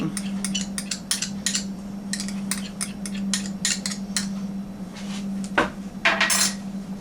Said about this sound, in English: you just want to start whisking that